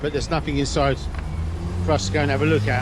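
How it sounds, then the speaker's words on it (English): Road traffic in Rome rumbles steadily under someone speaking close by, a low continuous drone of passing vehicles beneath his voice. "I will apologise for the traffic"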